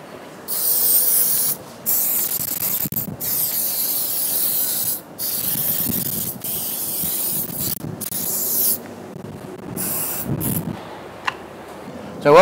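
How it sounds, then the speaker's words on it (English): A hose sprays water over a Yamaha outboard motor in several long, steady hissing bursts separated by short pauses, close and fairly loud. "First time round, give it a real good spray."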